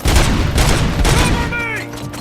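Rapid bursts of gunfire from the video game RoboCop: Rogue City, loud and dense across the whole stretch, with booming low-end impacts and scattered mechanical clanks.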